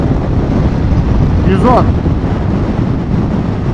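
Heavy wind buffeting on a SYM Symphony ST 200 scooter ridden at around 100 km/h on a highway with no windscreen, a steady loud roar throughout with someone talking over it.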